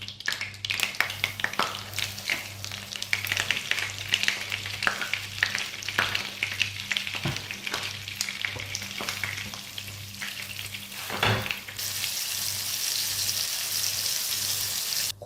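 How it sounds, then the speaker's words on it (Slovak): Chicken breast cutlets sear in oil and a little butter in a pan, giving a steady close sizzle and crackle with scattered utensil taps, running continuously and growing hissier toward the end. "kuracie rezne teraz osmahneme z obidvoch strán"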